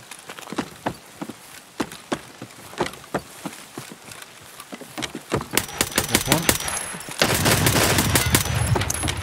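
Gunfire in the video game Escape From Tarkov, a run of sharp single shots at irregular spacing that thicken into rapid bursts, then a denser, noisier stretch of firing near the end.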